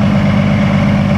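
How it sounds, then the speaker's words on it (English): A truck's engine cooling fan whirs steadily while the truck idles, a continuous close low rumble and hum with no break across the short stretch. "I left mine on right now to demonstrate. Can you hear the engine fan?"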